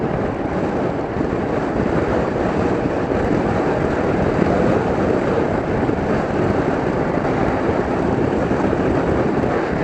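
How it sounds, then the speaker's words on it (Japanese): A Honda ADV160 scooter opened to full throttle from about 80 km/h cruising on a slightly rising road, a loud, continuous roar of engine and wind rush that holds steady throughout. "この状態からフルスロットルまで開けてみます"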